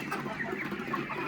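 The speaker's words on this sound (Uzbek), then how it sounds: "Yaqindan olib ko'rsatsam, shu to'q holatga kelib qolgan Andijon qora jo'jalarimiz" Andijon black chicks cluck and peep close by, a continuous soft chorus of small chirps and clucks without a break.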